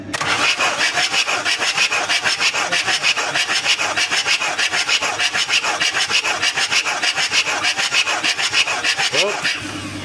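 A Mitsubishi L200 diesel engine with a compression leak cranks on its starter, a fast rhythmic churning that runs evenly and loudly for about nine seconds before stopping.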